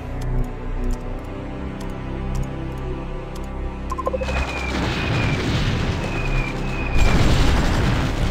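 Artillery fire in the strategy game Supreme Ruler Ultimate: a steady low rumble with faint ticking gives way to a dense, roaring barrage of booms that swells and stays loud to the end, with no voices.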